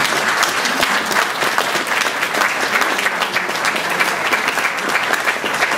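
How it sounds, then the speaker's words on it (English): Audience at a New York forum session gives ministers a warm round of applause: dense, steady clapping that fills the room, loud and continuous throughout with no talk. "could you give a warm New York round of applause to our ministers who are here?"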